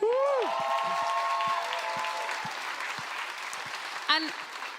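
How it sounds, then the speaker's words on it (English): A church crowd at a ten-year celebration breaks into loud, sustained applause that fills the room from start to finish, with a brief cheer rising near the end. "we just thought we'd do like a big round of applause and celebrate the fact that we own our own home"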